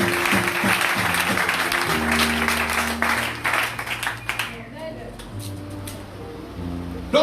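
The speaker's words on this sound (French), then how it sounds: "Donc, acclame quand même bien," A church congregation breaks into sustained applause and clapping, loud and dense, with a voice speaking and tones running beneath it before the clapping thins out toward the end.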